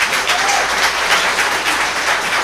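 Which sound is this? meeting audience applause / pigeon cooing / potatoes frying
meeting audience applause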